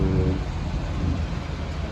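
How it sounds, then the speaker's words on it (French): Thunder rumbling during a storm near a hotel, a deep, steady low roar that fills the whole short stretch at moderate loudness, with no voices over it. "Et il y a orage"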